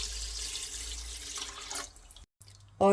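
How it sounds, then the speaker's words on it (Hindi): Water pouring into a pressure cooker with soaked chickpeas, a close, steady splashing stream that fades out, followed by a brief pause and a sudden clatter at the end. "अब हमने 4 कप पानी डाल देना और कुछ नहीं डालना।"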